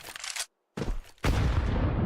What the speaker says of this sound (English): Really chunky nade there.